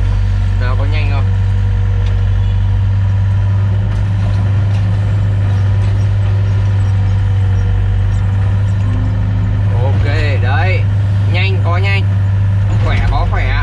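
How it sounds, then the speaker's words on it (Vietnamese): A 2007 Volvo EC55 excavator engine runs at raised throttle, a steady loud droning roar that holds throughout. Someone talks over it at the start and again near the end. "động một cái động cơ nó ồn như thế này thì để xem là nó có nhanh không"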